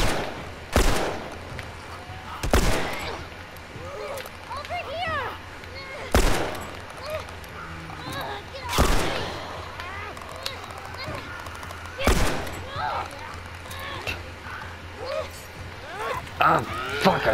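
Several loud, sharp gunshots ring out at irregular intervals in The Last of Us, spaced a second or more apart over a bed of tense game ambience, with voices speaking throughout.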